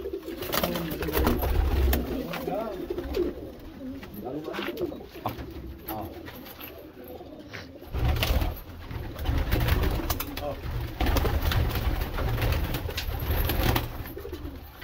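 Lalban pigeons from Sonipat coo repeatedly in soft, rolling calls inside a net enclosure, with a steady low background murmur and bursts of rustling throughout.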